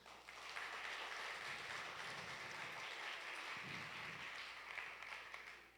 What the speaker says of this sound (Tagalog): Isang masigabong palakpak po.